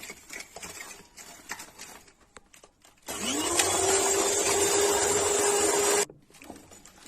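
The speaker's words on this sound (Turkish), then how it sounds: "Üzerine bir su bardağı e, toz şekeri ilave ediyorum. Çırpıcıyla güzel çırpacağım." An electric mixer whips three eggs with a glass of granulated sugar, whirring in a loud, steady, close burst of about three seconds that cuts off abruptly, with quieter kitchen handling before and after.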